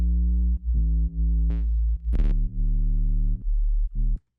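A synthesized sub bass from a drum and bass track plays alone: deep, pure, sine-like notes that shift pitch in a loose rhythm, with brief gaps and a short bright glitchy blip near the middle.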